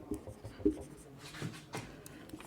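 Someone writes by hand, likely on a board or paper, giving a handful of soft scratchy strokes and taps in an uneven rhythm, fairly quiet and close.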